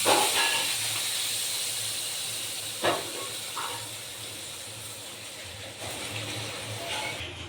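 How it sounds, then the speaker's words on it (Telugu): Okra sambar simmering on a stove gives a steady, hissing, steam-like bubbling that holds at a constant level, with a few faint clinks and knocks near the start. "సాంబార్ బాగా మరగాలి సిమ్లో పెట్టాను"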